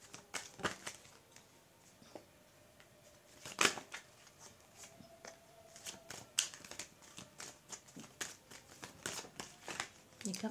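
A deck of playing cards being shuffled: crisp, irregular clicks and riffling snaps, close and fairly quiet, with a few sharper louder bursts scattered throughout.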